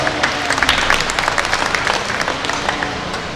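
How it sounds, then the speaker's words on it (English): A crowd at a heifer showmanship livestock show applauds steadily for the five contestants, dense overlapping claps holding at an even level for a few seconds, with faint voices mixed in. "give all five of them a big round of applause"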